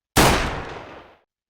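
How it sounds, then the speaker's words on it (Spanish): A single loud pistol shot fired into the air, a sharp bang followed by a long decaying tail of echo lasting about a second, heard alone. "Seguido del grito efectuó un disparo al aire."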